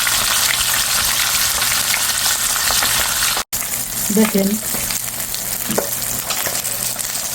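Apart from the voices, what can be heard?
koi fish frying in oil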